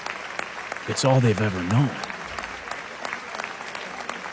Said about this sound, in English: Clapping. Wooing.